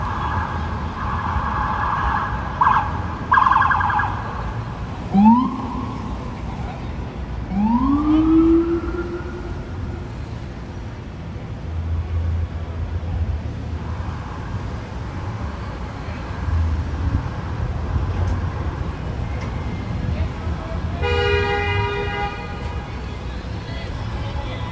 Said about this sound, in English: Crazy traffic here.